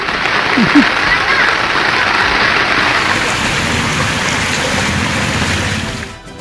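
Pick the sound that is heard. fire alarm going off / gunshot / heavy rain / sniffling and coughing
heavy rain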